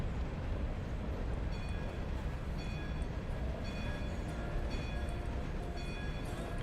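In the Railroader video game, a railcar released on a flying drop rolls along the track with a steady low rumble and occasional high metallic squeals and clicks, heard alone at moderate level.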